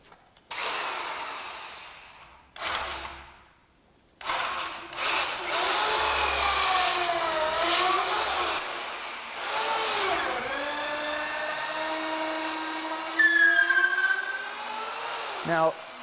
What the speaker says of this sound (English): hole that's being drilled now is exactly precisely, the placement of it